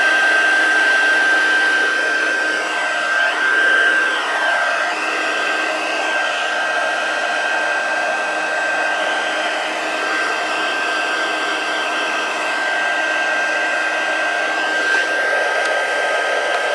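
A hair dryer on a low setting dries a watercolor-style card, a steady close blowing whir that runs unbroken and fairly loud the whole time, with a thin high whine.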